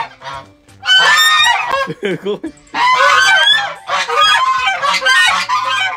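Geese honk loudly and insistently up close at a small mountaintop zoo in Chichibu, Japan, overlapping bursts of raspy calls with a short gap and a brief spoken word in between.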